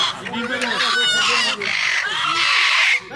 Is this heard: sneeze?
no